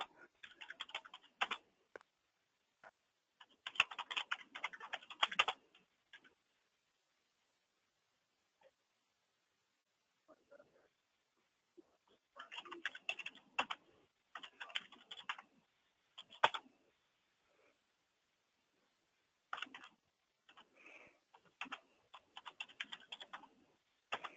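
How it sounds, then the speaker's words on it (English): Keystrokes on a computer keyboard clatter in irregular bursts with short pauses, recorded close by during an in-person consortium meeting. "you're doing a good job typing this"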